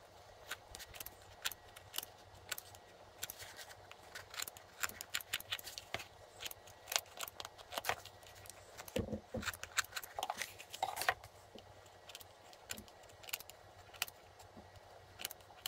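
Scissors snip through material for a faux concrete head planter, a series of quiet, close, irregular clipping and rustling sounds in quick bursts, with a dull thump midway.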